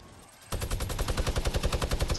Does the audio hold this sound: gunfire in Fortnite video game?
yes